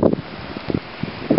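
Strong wind after a New Hampshire snow storm buffets the microphone in gusty, uneven bursts, rumbling low and close throughout.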